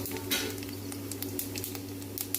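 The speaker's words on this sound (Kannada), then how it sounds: "ಚಕ್ಕೆ, ಲವಂಗ, ಏಲಕ್ಕಿ ನಾನು ಆಗಲೇ ತೋರಿಸಿರೋಂಥ ಮಸಾಲೆ ಹಾಕ್ತಾಯಿದ್ದೀನಿ ಫಸ್ಟು" Whole cinnamon, cloves and cardamom roasting in a pan for mutton keema curry, a soft steady sizzle with light scattered ticks and pattering, close but fairly quiet, no voices.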